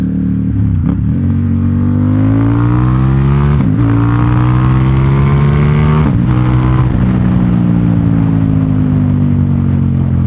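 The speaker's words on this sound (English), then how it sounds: "Downshifting like this to just get on the throttle. We'll do a second gear pull." A Ducati XDiavel motorcycle pulls hard in second gear, its engine note climbing steadily in rising sweeps, broken by two brief dips around shifts, loud and close with no talking.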